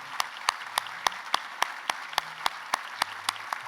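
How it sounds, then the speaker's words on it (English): At an annual charity breakfast honoring champions, a handful of people clap in slow, distinct, separate claps that spread through the room, fairly sparse rather than a full ovation. "Please join me in a big round of applause for our honorees today"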